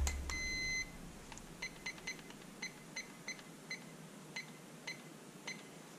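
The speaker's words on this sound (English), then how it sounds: "Let me set my handy dandy timer." A handheld digital kitchen timer beeps repeatedly as its buttons are pressed to set it, with a string of short, sharp, quiet chirps spaced irregularly over a faint background hiss.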